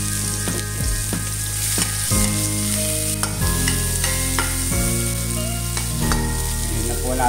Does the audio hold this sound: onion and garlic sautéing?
yes